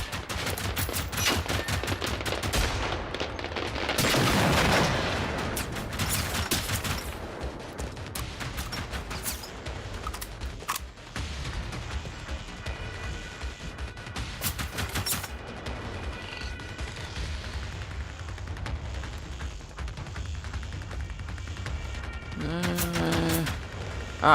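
Fireworks burst in the Generation Zero video game, a long rapid crackling barrage of pops and bangs with a loud whooshing swell early on, continuing densely before a squealing burst near the end.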